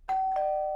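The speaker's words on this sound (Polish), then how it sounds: "Dzwonek." A cartoon doorbell rings once, a clean two-tone electronic ding-dong, close and clear against silence.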